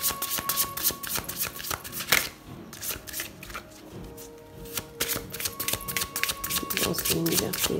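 Fairy oracle cards being shuffled by hand, a close, steady riffling and slapping that runs through the clip with a voice talking over part of it.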